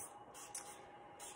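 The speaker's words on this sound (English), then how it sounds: "And now I'm spraying some avocado oil on the liners, just make it even easier." Short, soft hissing bursts from a spray of avocado oil onto muffin liners while making spicy tuna hummus cakes, faint and close in a quiet kitchen.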